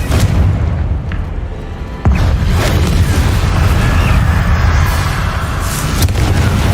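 Loud, booming blasts from the Confringo fire spell in Hogwarts Legacy, a dense rumbling roar that swells again sharply about two seconds in and keeps going with no talk over it.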